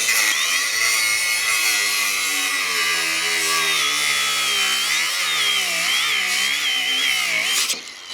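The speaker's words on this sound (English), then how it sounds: "angle grinder with a cutting wheel" An angle grinder with a cutting wheel whines loudly and continuously, a steady high-pitched cutting drone that wavers slightly under load before spinning down at the end.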